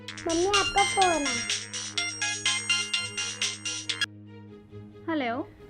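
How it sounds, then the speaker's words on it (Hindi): A mobile phone ringtone plays a repeating melodic pattern of bright tones, loud and near, with a voice speaking at the start and again near the end. "मम्मी आपका फोन है।"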